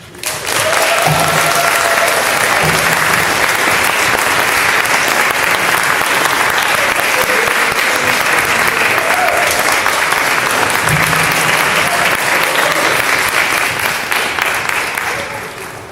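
An audience bursts into loud, sustained applause to welcome a guest speaker from Selma, Alabama, a thick, even roar of clapping that swells quickly and holds for about fifteen seconds before easing slightly at the end.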